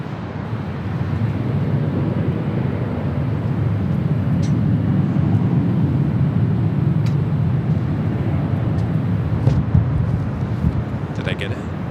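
Jet airliner rolling for takeoff on runway 24 Left at Los Angeles International Airport, a steady broad low engine roar that holds throughout, heard from a distance with light wind buffeting and brief higher chirps on top.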